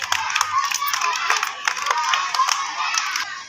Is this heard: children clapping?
yes